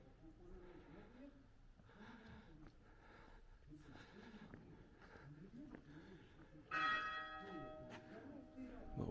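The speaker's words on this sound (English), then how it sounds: "Just the one gong for the half hour." A church tower clock bell in Skradin, Croatia strikes a single loud, ringing stroke for the half hour near the end. It follows heavy breathing and murmured talk, and the tone lingers afterward.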